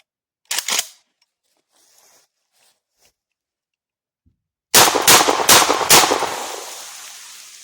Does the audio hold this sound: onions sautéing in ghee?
no